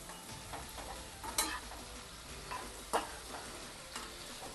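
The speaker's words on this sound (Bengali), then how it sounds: "এবার আমি আলুটা দিয়ে দিচ্ছি" Potato pieces frying with spices in a pan for a prawn and green pumpkin dish, a soft continuous sizzle with a few sharp stirring scrapes standing out, close but fairly quiet.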